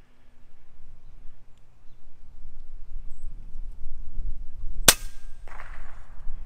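A single sharp crack rings out from an air rifle firing an FX Hybrid .30 caliber slug at a clay target outdoors. Quiet rustling and low background rumble come before the loud shot, and a brief fading ring follows it.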